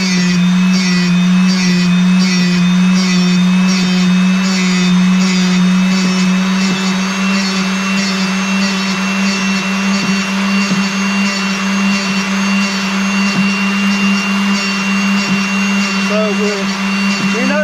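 A loud, steady motor whine from a bench grinder sharpening a drill bit hums continuously with faint grinding contact and small clicks, no talking.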